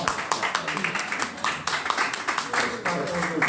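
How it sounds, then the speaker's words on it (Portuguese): An audience claps in a dense, steady round of applause that lasts a few seconds, with voices mixed in. "Uma salva de palmas"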